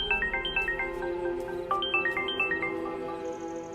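A telephone ringtone rings in a Hindi-dubbed Malayalam film: a loud, repeating run of bright electronic chime notes in a quick rhythm that stops near the end. No one speaks.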